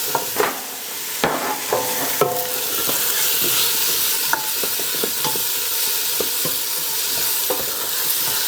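Bell peppers sizzle and fry in a pan for a vegetarian chili while being stirred, with a steady loud hiss broken by scattered clicks and scrapes of the utensil against the pan, close and with no voices.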